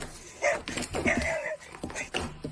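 A dog gives several short whimpers and yelps, with soft high whines that break into brief bark-like bursts close to the listener, as part of a storytime scene.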